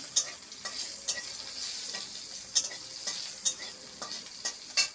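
A torn bay leaf hits hot oil in a kadai wok just after pointed gourd was fried, giving a steady close sizzle broken by regular scraping stirs of a spatula, with no voices.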